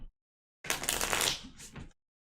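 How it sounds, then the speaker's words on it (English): A deck of Arkham Horror LCG cards riffled once in a quick burst of crisp flutter and slapping, about a second and a half long, close up after a short silence. "So shuffle. We love to shuffle for shenanigans."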